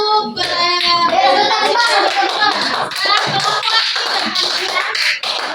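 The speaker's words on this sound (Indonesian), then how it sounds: "Oke, tepuk tangan dulu." Classroom clapping from young pupils at an Islamic primary school lesson, a dense burst of many hands applauding together for several seconds, loud and close, with faint children's voices mixed in.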